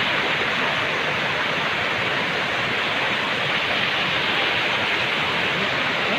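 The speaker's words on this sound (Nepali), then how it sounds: "ओह्रालो यो पानी पगिरहेछ।" Water gushes from a burst pipe at the Nippon hydel hydropower project and runs downhill in a loud, continuous roaring rush that stays constant throughout, close by.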